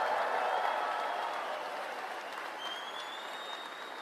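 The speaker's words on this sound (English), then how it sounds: "Give her a round of applause" Crowd at a Conservative campaign event in Windsor, Ontario gives a round of applause, a broad wash of clapping that starts full and slowly tapers, with a faint whistle-like tone near the end.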